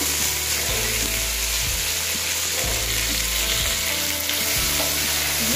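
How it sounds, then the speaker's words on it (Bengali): Potato, carrot, beans and tomato fry together in hot oil in a pan for khichuri, giving a loud, continuous sizzle broken by a few dull knocks as the vegetables are stirred. "তখন আলু বাদবাকি যে সবজিগুলো ছিল ওগুলো ভেজে নেব।"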